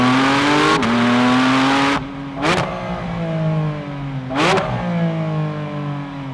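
A 2024 Porsche 718 Spyder RS convertible engine roars loudly and close as it accelerates, climbing in pitch, with sharp breaks at each gear change before revving up again.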